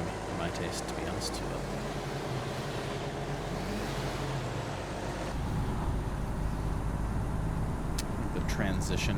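Steady rumble of passing traffic in the truck-driving game Truck World Australia, loud and continuous with faint hiss and a few brief higher tones on top, while someone talks over it throughout.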